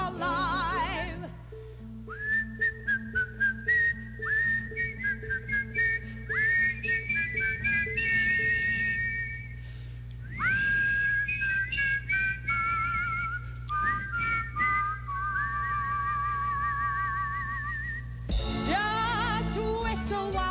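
Someone whistles a bright, bouncing Disney tune in clear, clipped phrases over a sustained low musical backing, with a brief jumble of louder sound near the end.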